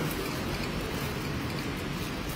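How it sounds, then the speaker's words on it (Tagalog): Steady rain patters on surfaces, a soft continuous hiss with no voices. "Ayan o, maulan."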